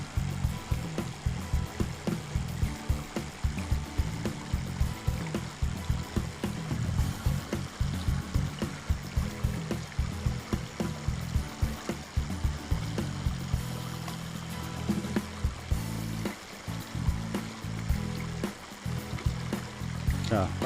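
Water running steadily into a 20-litre fresh-water tank on a camper caravan, a continuous close trickling and gushing flow with no break.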